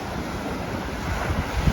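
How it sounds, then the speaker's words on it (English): Ocean waves break on an Okinawa beach in Japan at dusk, a brief, loud, rumbling wash of surf mixed with gusty wind noise, swelling toward the end, with no voices. "Those waves look pretty intense."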